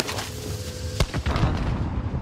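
A loud explosion in the Modern Warfare video game hits with a sharp boom about midway, over a dense rumbling game soundscape of continuous noise and smaller impacts.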